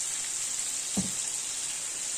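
Alexandrian-style liver fries in a pan of oil with lamb tail fat, giving a steady, moderately quiet sizzling hiss with one brief pop midway and no talking.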